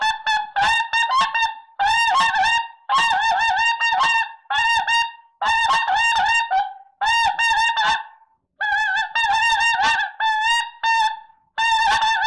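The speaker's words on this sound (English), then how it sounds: "Quaker boy, Frosty snow goose call." A Quaker Boy Frosty snow goose call is blown in quick, close, loud bursts of high honks, grouped in repeated series with short pauses between them.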